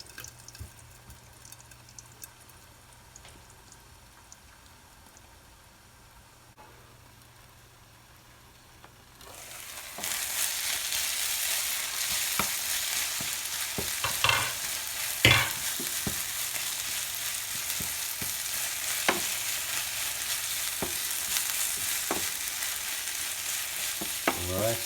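Chopped spinach sweating under a lid in a frying pan, first a faint quiet simmer, then a sudden steady loud sizzle and hiss with small pops and clicks scattered through it.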